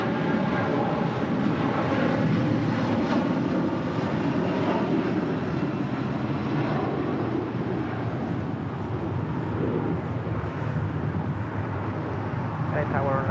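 A jet airliner takes off from runway 25 right at LAX, a broad, steady engine roar with wind rumble that swells and holds across the clip while radio voices talk over it.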